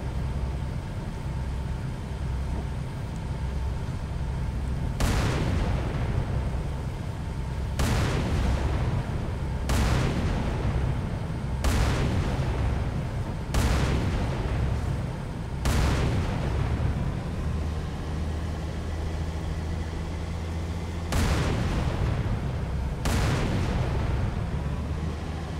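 Gunfire in Halo 3, heavy booming shots fired singly at irregular intervals over a constant low rumble of engines and ambience, loud and close.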